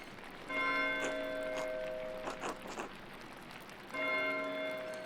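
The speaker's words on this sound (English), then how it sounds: "Why is Matthew ringing the bell?" A bell rings in Pentiment, rung by a monk at the abbey, giving two clear sustained tolls with long humming decay, separated by a short pause with faint tapping in between.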